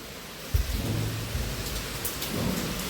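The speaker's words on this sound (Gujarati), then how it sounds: "જો અત્યારે કન્ટિન્યુ વરસાદ શરૂ જ છે" Continuous heavy unseasonal rain pours down in a dense, steady wash. A low thump sounds early on, and the downpour stays close and loud throughout.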